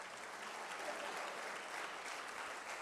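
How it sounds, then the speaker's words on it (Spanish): A congregation claps together during a morning church service, producing a dense, even wash of applause that holds steady from start to finish. It sounds somewhat distant and subdued, with no voices standing out. "Dese un aplauso a usted por estar en esta mañana en este lugar"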